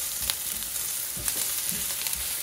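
Onions fry in a pan for a Guyanese curry, giving a dense continuous close-up sizzle with soft stirring scrapes and no talking.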